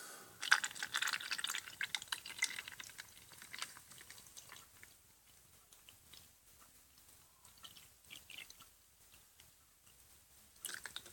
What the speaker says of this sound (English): Next, we're going to put in the water.